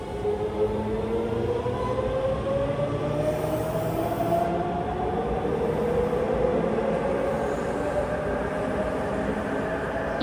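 A former Tokyo Metro Hibiya Line through-service train car pulls in on a Japanese line near Tochigi, with a loud, steady rumble and rising wheel and motor whine throughout, no voices.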